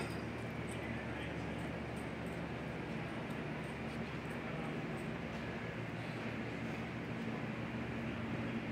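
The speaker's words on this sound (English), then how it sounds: "check out this container train, this stacker train on the reverse loop here" A continuous low rumbling roar of a model container stacker train running steadily on a reverse loop of a large layout, with faint metallic clicks over the top and no break.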